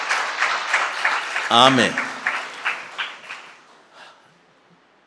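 A church congregation claps during a Sunday worship service, a burst of applause rising under a preacher's voice and ongoing talk before trailing off.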